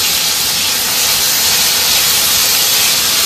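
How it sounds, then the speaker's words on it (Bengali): Potatoes and carrots frying in a pan with oil, giving a steady, loud, broadband sizzle that hisses continuously throughout with no pauses. "এবার একটু আলু আর গাজরটা দিয়ে দিচ্ছে, এটা একটু ভেজে নেবে।"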